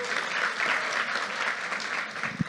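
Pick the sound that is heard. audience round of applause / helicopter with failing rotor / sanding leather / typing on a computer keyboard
audience round of applause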